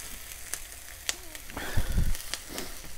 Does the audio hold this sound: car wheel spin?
no